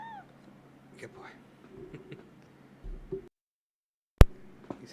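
A few faint, brief meows come through a quiet room, mixed with soft background noise and a sharp click near the end.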